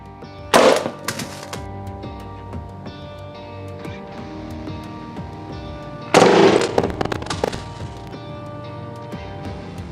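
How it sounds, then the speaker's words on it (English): A Benjamin Model 132 .22 caliber air pistol fired indoors, two sharp, loud shots several seconds apart, each with a brief ringing tail over quiet room tone. "the Benjamin Model 132 is pretty fun to shoot, especially indoors."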